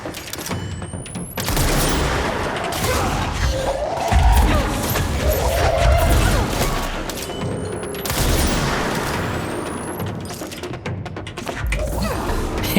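Charged weapon shots in the game Control, a series of heavy booms and crashing impacts that repeat about every few seconds over a dense rumbling bed, loud and close. A voice speaks faintly in between.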